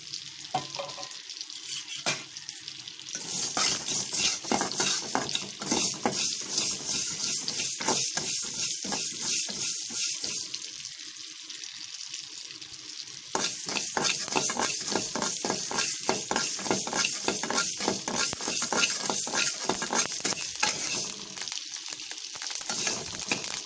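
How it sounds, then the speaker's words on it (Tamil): Fenugreek seeds crackle and rustle dry in a hot pan as they roast for lemon pickle seasoning, a steady rattling sizzle with stirring scrapes, getting louder partway through. "லெமன் ஊறுக்காய் தாளிக்கிறதுக்காக வெந்தயம் வறுக்கிறேன்"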